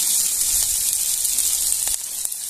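Onion, tomato and capsicum sizzle in a pan, a steady bright hiss of frying with a few faint clicks and stirs, close and constant with no talking.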